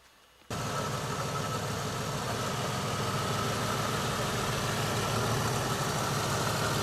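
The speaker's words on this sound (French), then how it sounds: "Ce que vous entendez, c'est le son du moteur." An old car's engine idles after starting up, a steady low rumbling drone that stays even and close for several seconds with no talking.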